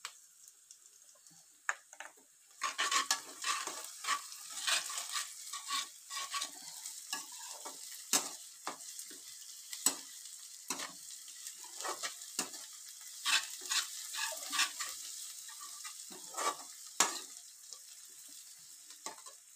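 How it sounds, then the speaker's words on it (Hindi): Lightly browned onions with ginger garlic paste frying in a pan, a faint steady sizzle beneath frequent sharp spatula taps and scrapes at an irregular pace, close by. "अब हम इसमें अदरक लहसुन का पेस्ट डालेंगे।"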